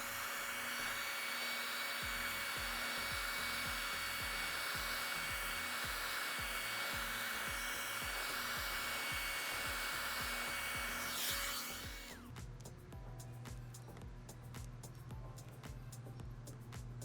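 A heat gun warms a Ford F150 truck badge during an aftermarket badge swap, a continuous close whooshing roar of hot air for about eleven seconds, then it cuts out, leaving scraping and rubbing noises with rhythmic ticking.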